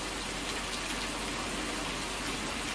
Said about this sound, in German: Das erste Mal Regen heute.